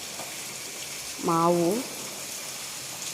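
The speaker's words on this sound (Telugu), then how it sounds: "మా ఊళ్ళో వర్షం పడుతుంది చూడండి" Rain falls on a small village as a steady, even hiss that fills the whole clip, and a voice speaks very briefly partway through.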